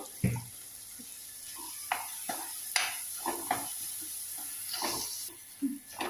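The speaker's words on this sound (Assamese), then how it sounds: "এয়া এইখিনি ভাজি আছোঁ" Goat meat fries in a wok with a soft sizzle, broken by intermittent scrapes and clanks of a utensil stirring, close and moderately loud.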